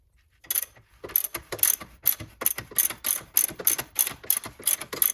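A ratchet wrench clicks rapidly in repeated bursts, loosening 18 mm front lower control arm bolts on a Land Rover Range Rover L405, close and loud with a steady rhythmic cadence.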